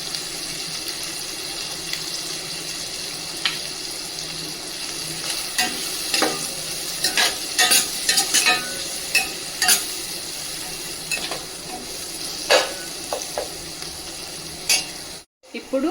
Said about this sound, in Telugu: ఇప్పుడు ఈ పోపుని అందులో కలిపేసుకొని మళ్ళీ లైట్గా వేడి చేసుకుందాం.